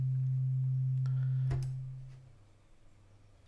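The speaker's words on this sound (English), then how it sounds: "Look at the beauty and simplicity of the sine wave." The VCO2 oscillator of an Arturia ARP 2600-V software synth plays a pure, steady low sine tone that holds evenly, then fades away with a faint click or two, leaving near silence.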